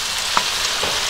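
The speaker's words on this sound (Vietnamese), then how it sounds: "mình cho cá vào dầu chiên" Salted fish frying in oil in a hot pan over medium heat, a dense, continuous close sizzle and crackle with a few small pops.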